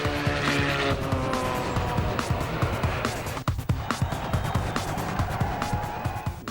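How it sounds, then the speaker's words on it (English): A Honda Integra drag races a Subaru WRX, with loud, continuous engine roar, tire squeal and crackling race noise running throughout. "Check out this Integra. Absolutely caning the WRX."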